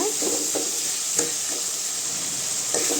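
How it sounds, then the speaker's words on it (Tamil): Tomatoes sautéing in oil for a goat intestine curry, a continuous bright sizzle with regular scraping strokes of a spatula stirring the pan, close and fairly loud. "கொஞ்சம் உப்பு சேர்த்துக்கலாங்க அப்போ தக்காளி நல்லா வேகும் தக்காளி நல்லா வதங்கணுங்க"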